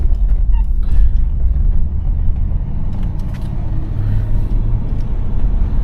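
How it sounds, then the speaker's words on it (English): A 1990 Cadillac Brougham on the road at about 40 mph, giving a steady, loud low engine and road rumble from inside the cabin that holds even throughout, with no squeaks and no talking. "motor sounds good, no weird squeaks or anything"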